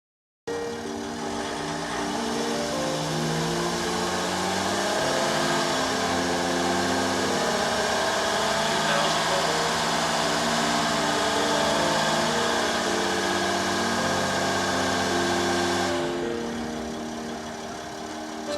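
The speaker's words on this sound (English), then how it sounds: "Also tried revving up the engine to see if the higher RPMs would make any difference." A car engine runs at raised RPM while alternator output is checked for lithium battery charging, a steady loud droning hum held for most of the time before it tapers off near the end.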